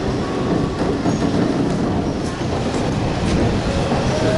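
Train running on rails along a river valley with mountains around, a steady broadband rumble and rolling wheel noise close by with faint clickety-clack, continuous throughout without talk.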